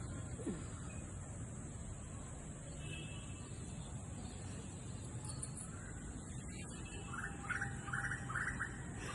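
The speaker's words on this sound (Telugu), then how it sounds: "రకరకాల పిట్టలు కూడా వస్తాయండి రోజు" Outdoor ambience with several birds chirping and squawking at a distance, the calls growing busier and more varied toward the end over a steady hiss.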